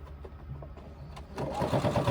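A sewing machine stitches the seam of a crossbody bag around its curves, running in short bursts before settling into a louder, continuous whirring run near the end.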